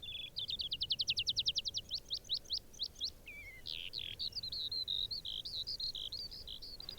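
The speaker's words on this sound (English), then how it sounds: "you're going to hear skylarks singing" Skylarks singing over an Irish bog in spring: a continuous high, bright stream of rapid trilled and warbling phrases. Pulsing runs are followed by looser chirps, fairly close and clear above a soft background rumble.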